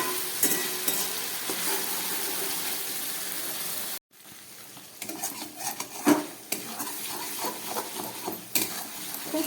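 Ginger, garlic and onion with green chilli paste sauté on low heat, a close, continuous sizzle broken by a brief pause, then stirring scrapes and utensil clinks against the pan.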